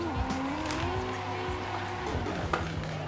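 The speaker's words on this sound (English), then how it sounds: "Trying to get some drifts going." A car drifts with tires squealing in long, wavering tones while the engine revs steadily underneath, the sound staying close and fairly loud from start to finish.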